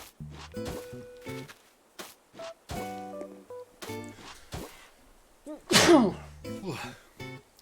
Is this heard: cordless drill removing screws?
no